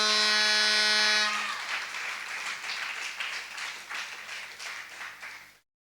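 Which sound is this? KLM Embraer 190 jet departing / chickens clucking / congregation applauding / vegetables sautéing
congregation applauding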